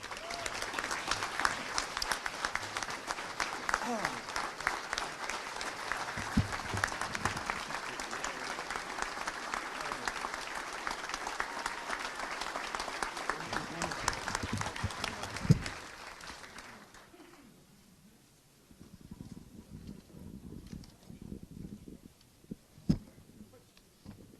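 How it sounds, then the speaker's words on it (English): Sustained applause from a crowded Little Rock Touchdown Club luncheon honoring the player of the week, loud and continuous for about fifteen seconds before fading out, followed by quieter room noise and scattered sounds. "So come on up, round of applause."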